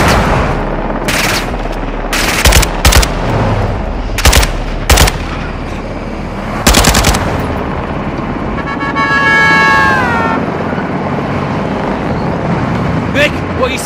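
Light machine gun fire in Modern Warfare II comes as repeated loud, sharp bursts of rapid shots spread across the scene, with battle noise, a rising whine and voices talking between volleys.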